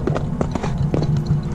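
Horse hooves clip-clop at a steady walking rhythm on pavement during a ride in Segovia, close and fairly loud, with no talk over the regular strikes.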